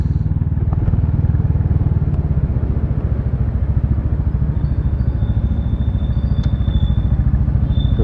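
A Kawasaki Estrella 250 motorcycle engine idles fast and steady, a close, loud, even low thump with light mechanical clatter throughout.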